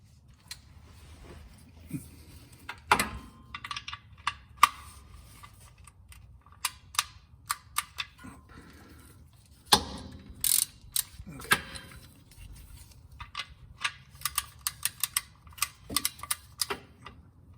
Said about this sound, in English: Get my torque wrench.